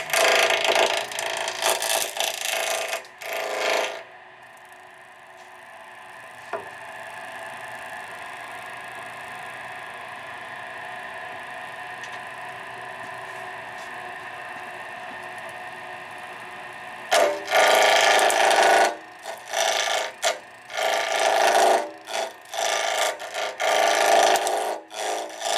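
A wood lathe turning a blank near 1800 RPM to knock off its corners gives loud rough scraping bursts at the start and end, with a steady quieter motor hum between.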